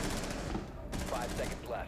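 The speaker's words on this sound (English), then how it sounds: "They're shooting me from the hatch." Rapid bursts of close gunfire crackle in Rainbow Six Siege, sharp repeated shots layered with game sounds and a faint voice.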